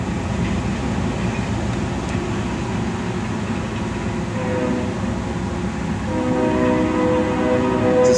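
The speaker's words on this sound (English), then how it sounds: "Sound of the train coming through." A train rumbles through near the Platte River in the rain: a loud, steady broadband roar of rolling cars, joined near the end by sustained tonal squeals or horn-like notes.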